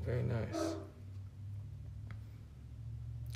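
A neighbor's dog barks a couple of times early on, muffled and fairly distant, then settles into a low steady background hum with no further clear barks.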